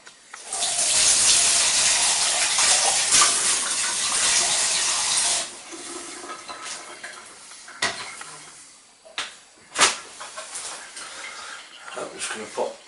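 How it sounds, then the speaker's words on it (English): Water gushes loudly from a tap for several seconds, then stops, followed by scattered clinks and knocks of cider-making containers and a fermenting vessel being handled. "I'm just going to grab a bit of water."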